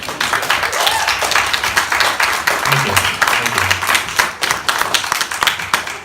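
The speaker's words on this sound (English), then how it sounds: "You deserve a round of applause" Audience applause at a town hall meeting, a dense crowd of hands clapping steadily for several seconds, close and loud, with some voices faintly underneath.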